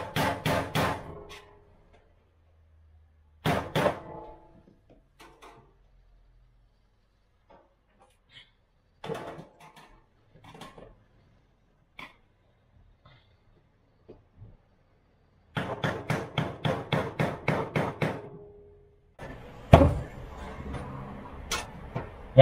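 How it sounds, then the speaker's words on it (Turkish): Bursts of rapid metallic hammer strikes during interior teardown of an Iveco Eurobus, several quick blows in clusters separated by pauses, with a few isolated taps in between. "İki çekiç de şimdi şu tarafına vuracağım."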